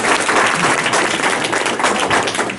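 An audience gives a round of applause, a loud, close burst of clapping with some thumping taps, continuing steadily for a couple of seconds.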